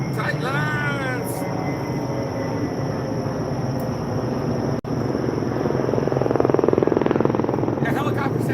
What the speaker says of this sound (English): That helicopter sounds like it's farting.